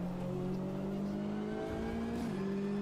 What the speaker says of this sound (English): This car sounds okay as well.